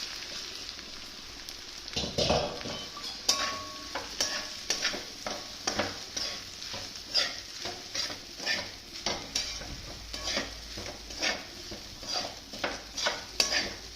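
Sabudana (sago) is stirred and fried in a pan, with a repeated scrape-and-shuffle rhythm of stirring over a faint, continuous sizzle, close and fairly quiet.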